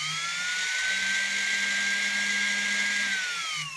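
Electric motor from a Husqvarna sewing machine running on its own, plugged in and slightly under-lubricated, giving a steady high whine that holds level for a few seconds, then winds down near the end, close and alone.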